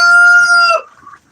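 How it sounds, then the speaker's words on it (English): A loud, close chicken call, drawn-out and tonal, sounds once as chickens leave their coop, trailing off into quieter, scattered farmyard noises. "I'm going to open this door, let all the chickens out."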